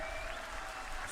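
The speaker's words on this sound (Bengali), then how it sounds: "সবাই আমরা সজোরে করতালি দিয়ে" An audience at a political rally for Suvendu Adhikari gives a short burst of steady clapping, faint and distant, with a voice faintly audible over it.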